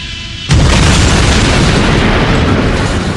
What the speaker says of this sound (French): Quand l'avion télécommandé frappe le sol, le carburant avec retardateur d'incendie que l'on testait ne fonctionne pas.